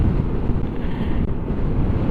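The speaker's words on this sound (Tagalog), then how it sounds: "Pero grabe ang hangin dito." Strong wind buffeting a helmet microphone while riding a motorcycle on a road in Laguna, a loud continuous roaring rush with gusty fluctuations and no voices.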